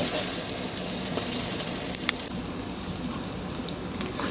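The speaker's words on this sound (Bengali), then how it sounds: "তো আমার পেঁয়াজ রসুনটা মানে ভাজা ভাজা হয়ে গেছে" Onion and garlic fry in oil with a steady, fairly quiet sizzle and crackle that holds evenly throughout, with a few faint pops and no voices.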